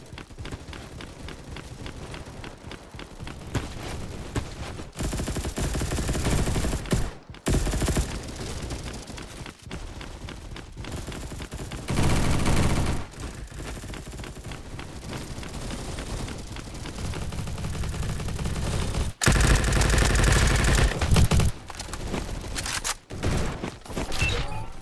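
Gunfire in a Roblox shooter game comes as dense, rapid bursts of shots, loud and continuous across the stretch with brief gaps between volleys and no talking.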